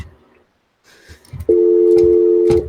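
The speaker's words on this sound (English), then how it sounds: "my phone was going off" A phone nearby sounds one loud, sustained electronic tone lasting about a second, after brief faint background noise.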